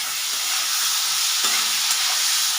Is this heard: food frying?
yes